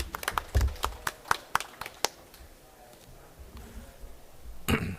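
A conference audience at COP26 claps to welcome a speaker from Indonesia, with sharp, separate claps in the first two seconds that thin into quiet room tone before a final burst.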